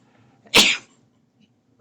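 A single sharp human sneeze bursts out close and loud in an otherwise quiet room, followed by a brief pause before another sound begins.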